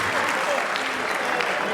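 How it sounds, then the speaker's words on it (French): Audience applause at a live stage show in a Brazzaville concert hall, a dense continuous wash of clapping that stays loud and even throughout, with a voice faintly audible beneath it. "on applaudit très fort pour vous"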